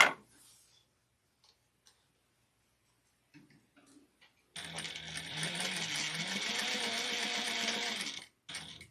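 A sewing machine stitching a vintage-style handbag gives a few soft taps, then runs steadily for about four seconds before stopping, close and fairly loud against an otherwise quiet room.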